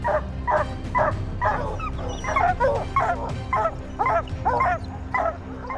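Several hunting dogs on a wild boar hunt bark, yip and whimper in quick, excited bursts, fairly close and overlapping, with a low rumble running underneath.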